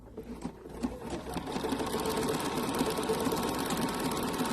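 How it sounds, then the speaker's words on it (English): A sewing machine stitches a decorative stitch combination at fast speed, with a continuous, close mechanical whirring hum and rapid rhythmic needle clatter that builds up after a brief start. "make sure I'm at the very beginning of my stitch combination, and I can actually go pretty fast"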